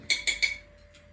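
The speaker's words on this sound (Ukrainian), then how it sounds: "хватить вже мішати його, торохтіть ложкою" Three quick metallic clinks of a spoon against a cup in fast succession, close and crisp, followed by a fainter fourth tap.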